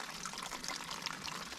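Water from a jug struck by a 10mm bullet splashes and sprays outdoors in a short, faint, hissing burst of liquid.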